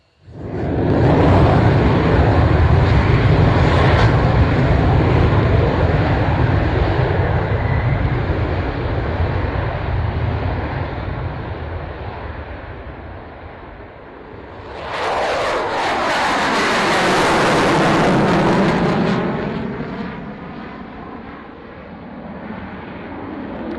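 A powerful aircraft engine roars loud and steady through a takeoff at the RAF Waddington airshow, then fades a little before a second surging jet-like rush sweeps past, with no talk.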